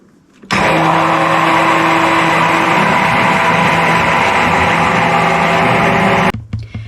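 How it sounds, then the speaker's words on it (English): An immersion blender whirs loudly and steadily for about six seconds, starting and stopping abruptly, with nothing else heard over its motor. "So I'm going to get the immersion blender and give it a little blend."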